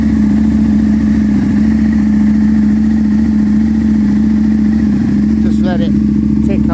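A 2007 Aprilia Tuono 1000R sits at a loud, steady idle right after a winter start, its even low rumble unbroken throughout, with a brief voice faintly audible near the end.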